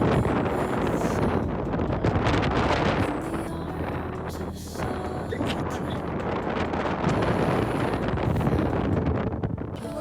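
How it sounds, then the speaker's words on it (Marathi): Strong wind buffets the microphone on a mountain trek at Brahmagiri near Trimbakeshwar, roaring in loud, uneven gusts that swell and ease across the stretch with no talk. "आणि मग आला आमच्या ट्रिपचा सर्वात भन्नाट हिरो, तो भन्नाट वारा."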